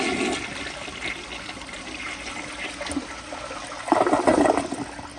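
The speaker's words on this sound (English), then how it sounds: "Here is another flush." A round 1984 Lamosa Atlas toilet flushes, a steady rushing swirl of water that swells into a louder gurgling surge near the end, heard up close with no talking.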